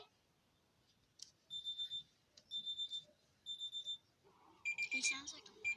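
Emergency alert alarm sounding as short bursts of high electronic beeps in repeated groups of three or four, then a louder, denser burst of alarm tone at the end, fairly close and clear.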